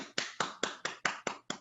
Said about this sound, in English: give you a big rousing cheer and applause